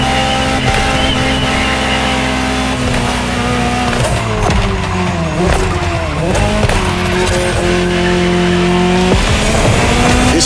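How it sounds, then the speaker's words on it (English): A Ferrari GTO supercar in The Crew Motorfest races along with a loud, continuous engine roar, rising and falling through gear changes, with squealing tires mixed into the drive. "just enjoy the collector's piece that is the Gran Turismo Omologato"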